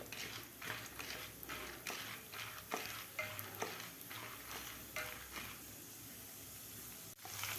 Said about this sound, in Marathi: साधारण 2 मिनिट आपल्याला हे डाळ्या तळून घ्यायच्या आहेत.